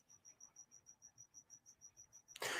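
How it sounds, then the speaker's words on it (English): Crickets chirp at night in a steady, evenly spaced pulse of short, high calls, faint and close, ending with a sudden loud burst of noise. "Man, the crickets are working overtime."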